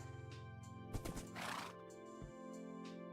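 A horse in a video game gives a short whinny, a bright, quavering neigh over a steady droning game soundtrack, with a few soft thumps before it; the whole is quiet and no one speaks.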